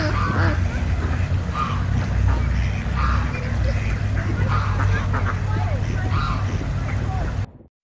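Ducks quacking in a steady stream of nasal calls over a constant low engine-like drone, loud and close, with honking fowl voices mixed in throughout before the sound cuts off abruptly at the end.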